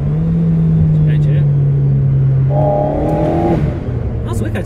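An Alpine A110 Pure's engine and exhaust drone loudly and close, holding a steady low tone before revving up briefly with a rising note, while someone talks over it.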